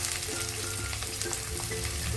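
Onion, added to hot oil with cinnamon and spices in a pan for methi matar malai, fries with a loud, dense, continuous sizzle and light crackles, with no talking.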